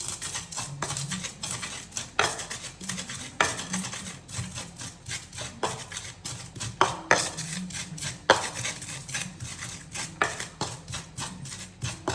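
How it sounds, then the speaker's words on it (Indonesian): Chilies, onion, MSG and salt pounded in a mortar for sambal bawang, with repeated knocking and grinding strokes in a steady, fairly close rhythm and no talking. "Ayo diulek cah. Diulek sing lembut."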